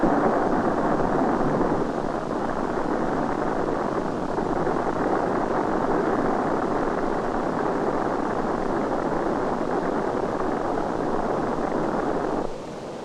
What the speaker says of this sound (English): The first static firing of the descent engine took place in the spring of